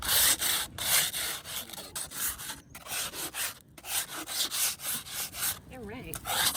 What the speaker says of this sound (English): It's hot enough that things are burnt off, so I'm just gonna scrape it with a piece of foil.